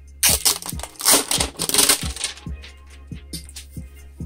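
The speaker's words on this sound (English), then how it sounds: "So let's take off some of this plastic that they have on here." Protective plastic film is peeled and crinkled off a new Samsung Chromebook Plus, with a few loud crackling bursts early on followed by a run of lighter, evenly spaced clicks and rustles.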